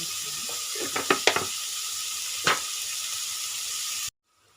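Frying in oil for an aloo kurma gives a steady close sizzle, marked by a quick burst of clinking stirs early and one more knock before it cuts off abruptly.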